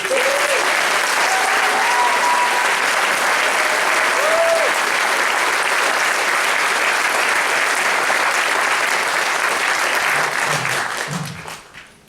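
A large audience at a graduation ceremony claps steadily, with a few whistles early on, before the applause dies away.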